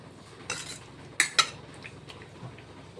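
A lid goes onto a pot of marinated chicken for mandi biryani, giving two quick metallic clinks close by, with a softer clatter just before, in an otherwise quiet kitchen.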